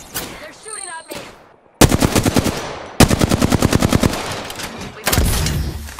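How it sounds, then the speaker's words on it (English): Rapid automatic gunfire from the Apex Legends video game rattles out in loud, tightly spaced bursts, separated by brief pauses and a short quiet gap near the start. "They're shooting at me."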